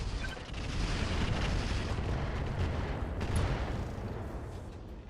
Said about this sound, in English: we're going to fire our own artillery at that rocket carrier